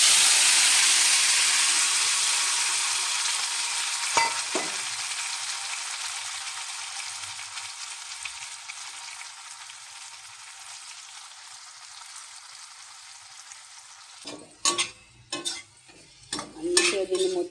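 Washed tomatoes dropped into hot oil in a pan already used for frying bitter gourd, giving a steady loud sizzle that slowly fades. A few sharp clinks of a spoon stirring come near the end.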